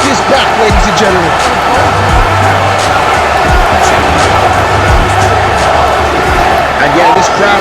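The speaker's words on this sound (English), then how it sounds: "this crowd here is going ballistic" A wrestling arena crowd in WWE 2K roars and cheers steadily, a dense wash of noise under loud continuous commentary with occasional thuds.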